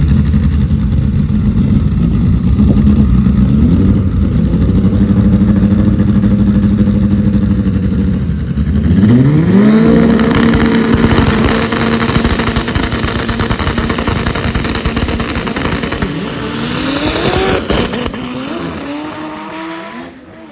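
A drag race car with a broken axle revs hard and high at a qualifying round of a PSCA drag race, the engine screaming up through rising sweeps with no launch, loud and continuous over crowd and track noise.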